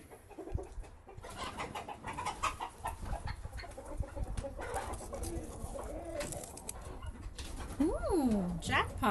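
Chickens cluck and murmur inside their coop, close and fairly soft, beneath a person's talking and scattered rustling, with a sharper squawk near the end.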